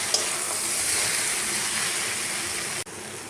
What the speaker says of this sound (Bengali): এবার ভেজে রাখা সবজি আর মাছটা এর মধ্যে দিয়ে ভালো করে কষিয়ে নেব।